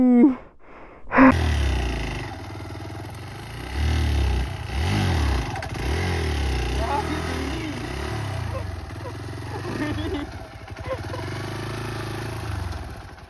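A motorcycle engine nearby, revving in repeated surges that rise and fall over a steady idle, with a brief voice at the start.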